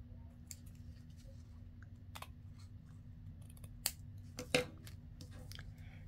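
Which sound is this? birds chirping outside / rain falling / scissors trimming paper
scissors trimming paper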